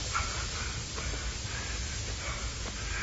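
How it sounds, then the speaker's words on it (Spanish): Steam hisses in a steady, loud, broadband rush that continues unbroken for a few seconds with slight flickers in intensity, close by and with no voices over it. "Cuánto vapor."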